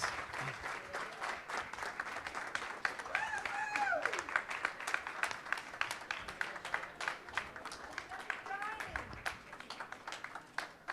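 A crowd applauds the winning dining-hall team at a campus cooking contest, scattered distinct claps in a steady patter, with people talking and calling out over it.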